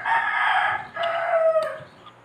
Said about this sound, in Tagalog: Ang ingay sa mga manok.